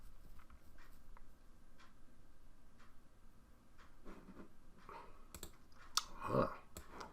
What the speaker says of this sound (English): click on that now